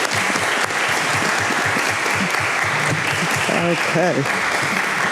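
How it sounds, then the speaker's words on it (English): Audience applause at a state senate candidate debate fills the clip as a steady, dense wash of clapping, with a brief spoken word near the end. "Now, applaud."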